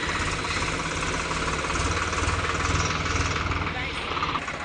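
A tractor engine runs at idle in a farm field, a steady, close, low rumble with a rhythmic throb that continues unbroken throughout.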